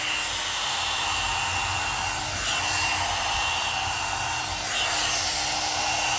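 A one-step hair dryer brush, a combined styler and volumizer, blows with a constant loud airy whoosh, steady and close throughout with slight shifts in tone as it moves.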